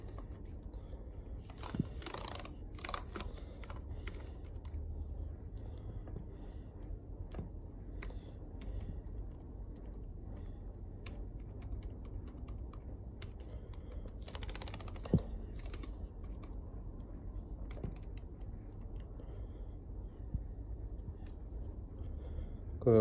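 Steady clicking of keys on an HP laptop keyboard, irregular taps over a constant low background hum, close and fairly quiet.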